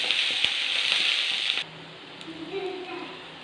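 Curry leaves sauté in hot oil for an onion chammanthi, a loud bright sizzle for about a second and a half, then the crackle drops away to a quieter, softer frying.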